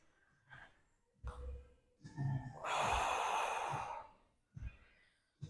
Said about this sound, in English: Deep inhales and exhales.